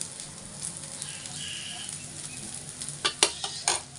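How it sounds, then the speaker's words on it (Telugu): Pesarattu, a green gram dosa, sizzles on a hot pan as a soft steady hiss, followed near the end by a few sharp metallic clinks of a spatula or utensil, close and without speech. "దోరగా కాలాలి దోశ మంచిగా"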